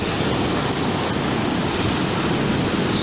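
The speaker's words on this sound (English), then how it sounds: "These waves are just crashing straight on the edge of the beach." Ocean waves crash right at the edge of the beach at Ocean Beach, California, a loud, continuous roar of surf and churning water with wind, close to the listener.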